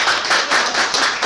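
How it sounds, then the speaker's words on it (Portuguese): An audience claps for a female singer guest at a Star Wars fan event, steady close applause with a few louder swells, no voices over it. "palmas para a nossa convidada, então."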